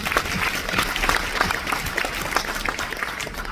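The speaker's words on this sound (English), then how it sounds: "Big round of applause to you for coming back to us." An audience at a top-tier event aboard the Odyssey of the Seas cruise ship in the Mediterranean claps in a dense, steady round of applause with light crowd noise, with no clear talking.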